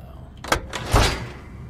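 A door opens in the puzzle video game Soul Axiom, heard as two short mechanical bursts, the second a heavier low thud, fairly close and with no talk over it.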